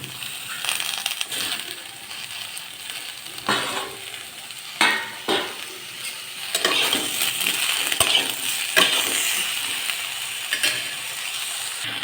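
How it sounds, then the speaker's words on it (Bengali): Drumsticks and potatoes fry lightly in a pan as chopped brinjal pieces go in, giving clattering drops and scraping stirs over a low sizzle. The sound is fairly close, with no talking. "সজনে ডাঁটা ও আলু হালকা ভাজা হয়েছে এর মধ্যে আমি টুকরো করে রাখা বেগুনগুলো দিয়ে দেবো"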